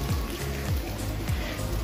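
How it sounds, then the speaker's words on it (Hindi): Rain falling outside a hotel in the hills at Nathiagali, a steady broadband patter with dense drops close by, continuous through the short stretch with a faint low hum underneath and no talk. "यू कैन सी बारिश हो रही है"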